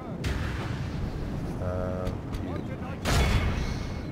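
Battlefield troops firing in the strategy game Third Age Total War, booming volleys and crackling shots mixed into a busy din, one loud burst near the end, with a voice speaking over parts of it.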